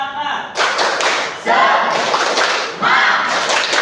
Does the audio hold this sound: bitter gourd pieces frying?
no